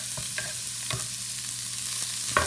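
Garlic and green beans frying together in a pan for vegetable lumpia, a continuous close sizzle with several short scraping stirs of a utensil, no talking.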